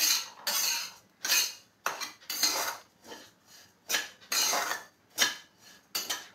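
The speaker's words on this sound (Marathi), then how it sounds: "ओवा पण सारखा हलवत राहायचा आहे भाजताना" Carom seeds are stirred while dry-roasting in a pan, giving a run of rhythmic dry scraping and rattling strokes, about a dozen, close and clear with brief pauses between, no talking.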